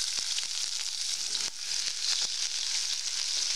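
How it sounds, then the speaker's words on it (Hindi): Onion sizzles in hot oil with browned cumin for masala Maggi, a dense steady hiss with small crackles, close and continuous. "जीरा ब्राउन हो गई है, अब हम इसमें प्याज डाल देंगे।"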